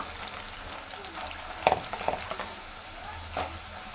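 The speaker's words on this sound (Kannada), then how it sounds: "ಈಗ ನಾನು ಹುರಿಗಡಲೆ ಸೇರಿಸ್ತಾ ಇದ್ದೀನಿ, ಅದನ್ನು ಸಹ ಎಣ್ಣೆಯಲ್ಲಿ ಚೆನ್ನಾಗಿ ಫ್ರೈ ಮಾಡ್ಕೊಳ್ಳೋಣ" Roasted gram (fried chickpeas) frying in oil for a puffed-rice snack, a soft steady sizzle with a few brief stirring clinks and scrapes near the middle and end, no talking.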